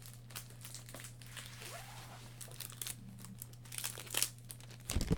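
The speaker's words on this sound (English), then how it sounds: "Get this cellophane off." Cellophane wrapper crinkled and torn off a Dunhill Desire fragrance box, close crackling rustles that build toward a louder tearing burst at the end, with a low steady hum underneath and no speech.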